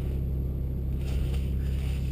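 BMW 135i fitted with an HPF prototype exhaust and downpipe, heard from inside the car as a steady low droning rumble at cruise, constant and unbroken with no voices.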